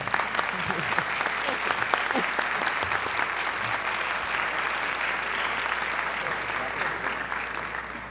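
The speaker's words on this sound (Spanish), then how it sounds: "Ahora vamos a pasar con un aplauso para los panelistas" Sustained applause from a conference audience for panelists, a thick wash of clapping holding steady and fading a little at the close.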